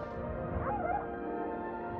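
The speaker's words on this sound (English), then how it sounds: "Doggy!" A dog whimpers and yips in a scene from the 1998 film What Dreams May Come, a brief high whine rising over a steady bed of film score, close and clear for about a second.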